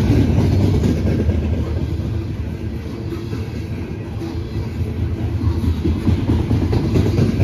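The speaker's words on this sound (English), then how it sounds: "This is the only benefit for a coal train." A Norfolk Southern coal train with hopper cars rolls past close by in a continuous loud rumble. Rail clatter and rushing wheel noise fill the whole stretch.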